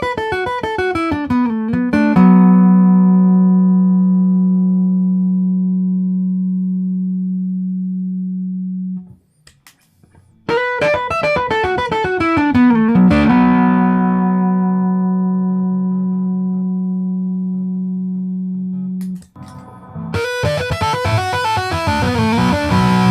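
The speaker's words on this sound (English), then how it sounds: "play the melody strings through the guitar amp, first clean, and then with a little overdrive," Chapman Stick through a guitar amp playing long sustained notes with sliding melodic runs on the melody strings, first clean, then with growing overdrive and gritty distortion.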